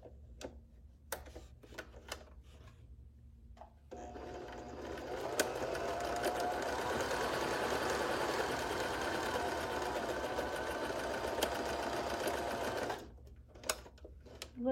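A sewing machine stitches fabric in a steady, close, continuous whir lasting several seconds, framed by short clicks and handling ticks before and after as the needle is lifted.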